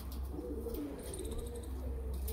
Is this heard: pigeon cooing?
yes